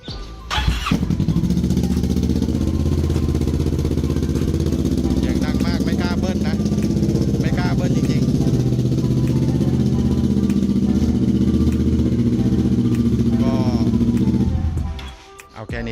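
A 2014 Kawasaki ER6N motorcycle engine idles loudly and steadily nearby, revving up a few times with rising whines before cutting off near the end.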